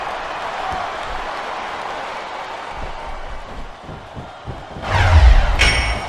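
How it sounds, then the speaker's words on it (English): Video game crowd in WWE SmackDown vs Raw 2008 at a wrestling match, a steady arena roar of cheering and applause that swells louder with a burst of noise and thuds near the end. "I think these superstars are getting some feedback from the crowd, JR."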